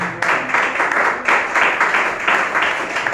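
A church congregation applauds together, a dense and steady wash of many hands clapping that carries evenly for several seconds with no voices on top.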